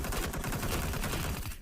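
Dense, rapid gunfire from PUBG Mobile rattles continuously in loud overlapping bursts and cuts off abruptly at the end.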